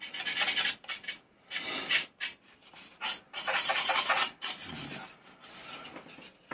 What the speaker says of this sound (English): gently ease away the balsa to trim it down, but you'll get a much smoother finish with a file or sandpaper